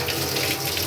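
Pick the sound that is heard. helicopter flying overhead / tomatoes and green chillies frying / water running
water running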